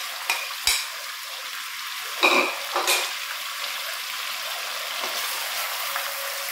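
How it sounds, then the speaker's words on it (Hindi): Garlic-ginger paste and green chilli paste hit a hot pan with a steady sizzle, punctuated by a few scraping stirs and clinks of a utensil against the pan. "अब हम लहसुन अदरक का पेस्ट डाल देंगे पहले, और इसमें साथ ही सब्ज़ मिर्च का पेस्ट भी डाल देंगे।"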